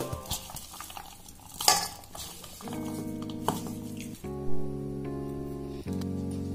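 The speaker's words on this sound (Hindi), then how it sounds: "अब इसको हल्का से मिक्स कर लेते हैं।" Radish paratha dough with ajwain and salt is stirred in a bowl, with scraping and clinking against the bowl, then a steady tonal hum from a kitchen appliance underneath.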